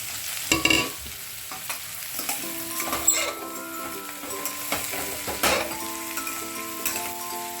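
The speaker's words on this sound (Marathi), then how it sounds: "चांगलं परतून घेऊया." Mixed vegetables for Surti undhiyo, among them val papdi beans and brinjal, sizzle and are stir-fried in a pot. Sharp scraping strokes of a spoon against the metal recur throughout, close and fairly loud, and no one speaks.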